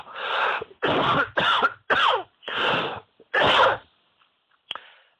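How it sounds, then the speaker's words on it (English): A series of about six harsh coughs in quick bursts, close and loud, followed by a short pause and one final smaller cough. "I'm going to cough."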